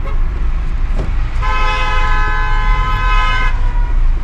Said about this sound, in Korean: 클락션 울리고